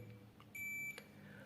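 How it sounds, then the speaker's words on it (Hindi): Continuity-test beep from a digital multimeter, a single steady electronic tone lasting about 0.4 seconds, clear over a quiet background hum. "ये आप देख पा रहे हो कि इसमें बीप की साउंड आ रही है।"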